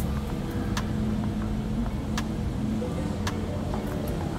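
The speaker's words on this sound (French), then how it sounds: "les bruits là, c'est les bruits des motos" Motorbikes pass in a street in Cameroon, a steady low engine drone from moderate distance with occasional faint clicks, heard from indoors without talk.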